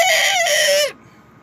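A human voice mimics a young rooster learning to crow, giving a single loud, strained crow that breaks off abruptly partway through, followed by quiet.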